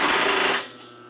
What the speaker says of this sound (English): Can I put a muffler on that motor back there? It's noisy. It's annoying. Constant drive.